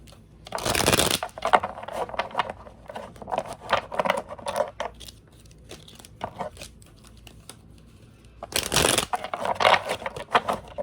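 A deck of oracle cards is shuffled close by. Two louder riffling bursts open and close the passage, with softer, irregular card flicks and rustling between them and no talk.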